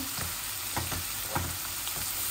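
Shrimp fry in a pan with a constant close sizzle, broken by several soft scraping stir strokes at regular intervals. No voices are heard.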